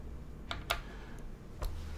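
Keystrokes on a KBDfans TET mechanical keyboard, three or four separate clacks spaced irregularly over a couple of seconds, fairly quiet against a low background hum.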